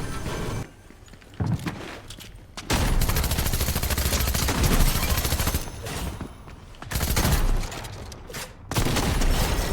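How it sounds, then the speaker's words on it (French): Pump-action shotgun fire in a video game: loud, dense bursts of gunshots in rapid succession with short lulls between volleys, close up and with no talking. "toucher un adversaire à moins de 15 mètres avec un fusil à pompe"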